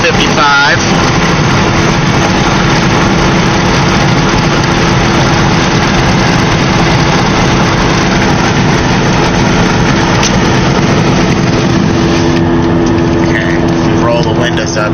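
Inside a Cadillac DeVille cruising at night, the engine gives a low, even, steady drone under a constant wash of road and cabin noise, with no revving changes throughout.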